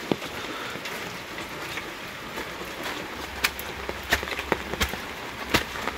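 Rain falls steadily outdoors near a backyard chicken coop, a soft continuous hiss broken by a few louder, sharper drops and drips toward the end, with no talking.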